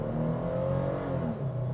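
A Toyota Prado engine in sport mode revs at full throttle, giving a loud, steady drone with a slight rise and fall in pitch as the SUV accelerates. No one speaks.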